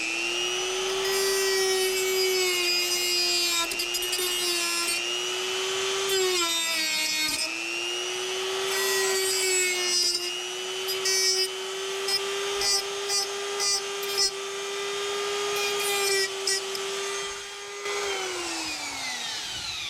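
A plastic car bumper being cut, with a continuous whining saw-like drone that rises and dips slightly in pitch and has rough scratchy cutting texture over it, running nearly the whole time close up.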